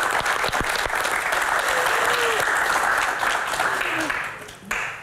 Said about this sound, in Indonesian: Tepuk tangan lebih meriah untuk Kang Maman